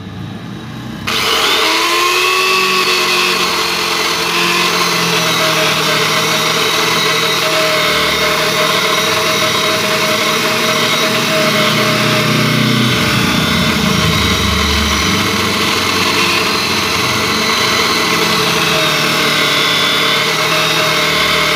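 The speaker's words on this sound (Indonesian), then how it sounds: "kalau di sini saya membersihkan menggunakan mata gerinda sikat" An angle grinder fitted with a wire brush wheel cleans a torn sidewall on a car tire before patching. It whirs up after a second of quiet and holds a loud, steady high-pitched whine with faint scraping for the rest.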